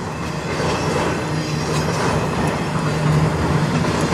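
CN 122 intermodal and autorack train led by CN 3881 and CN 2225 locomotives passing through a blizzard at Sarnia, Ontario: a steady, loud rolling roar of railcars with rhythmic wheel clatter throughout, no talk.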